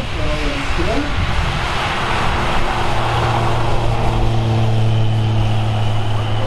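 An electric light aircraft with two seats takes off at the Rakkestad airshow in Norway. Its motor gives a steady, fairly quiet drone that rises through a loud, constant wash of outdoor crowd and wind noise.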